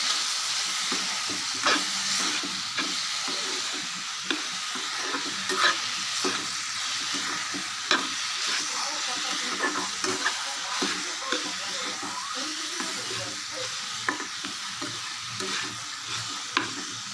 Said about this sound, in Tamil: நல்லா வதங்கி வரட்டும், வெயிட் பண்ணலாம்.